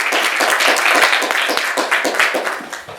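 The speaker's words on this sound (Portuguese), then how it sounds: "Então, uma salva de palmas para todos." An audience applauds at a philosophy debate, with dense, steady clapping from many hands close by that holds for about three seconds before thinning slightly at the end.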